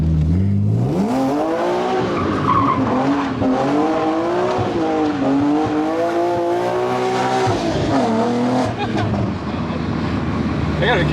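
A BMW E46 M3 engine accelerating from inside the car, loud and continuous, its pitch climbing steadily through the revs, easing briefly, then rising again, with a strong drone from start to finish.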